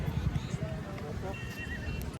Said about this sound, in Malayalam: അപ്പോൾ ഇവിടെ മൊത്തം കുതിരയുടെ കളിയാണ്